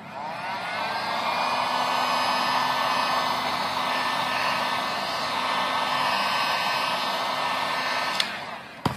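A heat gun blows steadily as it heats the edges of a golf club skin wrap, making a constant, close airy roar that lasts about eight seconds before it clicks off at the end.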